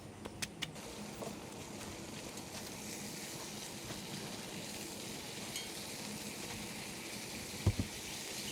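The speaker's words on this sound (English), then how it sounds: "This morning we're having bacon and a cast iron skillet." Bacon frying in a cast iron skillet over an open campfire at a campground, a steady soft crackling sizzle running throughout with a few sharper pops near the start and end.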